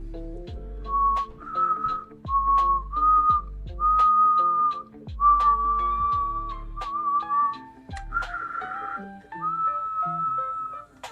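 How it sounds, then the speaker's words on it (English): Clear, steady lip whistling: a series of sustained tones stepping through a simple tune, close and solo, with faint breathy thumps between notes. "then it makes that whistle sound"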